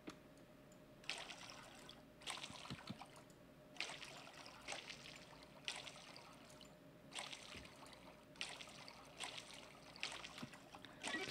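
Water from a watering can splashes onto crops in the farming game Coral Island, repeated in soft bursts of about a second each, evenly spaced, faint and alone with no talk.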